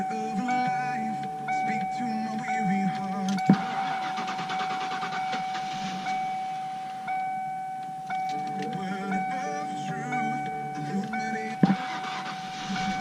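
A 1994 Crown Victoria that sat for four years on a full tank of old gas cranks and fires up, its engine then idling with a steady hum and a couple of sharp clicks.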